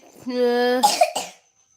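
A short voiced sound followed by two or three quick harsh coughs, close and fairly loud, then silence.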